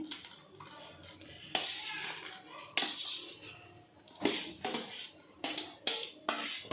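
Oil-fried capsicum being added to a simmering gravy in a pan and mixed, with bursts of metal spoon scraping and clinking against the pan at irregular intervals, close up and without talk.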